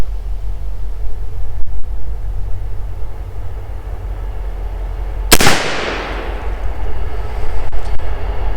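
One sharp, loud shot from a Pietta Remington New Model Army Sheriff's revolver fired outdoors at a 20-foot target, its crack trailing into a decaying echo over the constant low rumble of a passing train.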